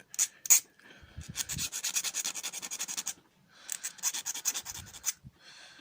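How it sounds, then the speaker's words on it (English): A file rasps back and forth across the edges of a brass breech for a Buzzbee Sentinel blaster, cutting a small bevel. Close, steady rhythmic scraping strokes come in two bursts separated by a short pause, with no talking. "Bevel the edges a little so that it slots in a little more smoothly."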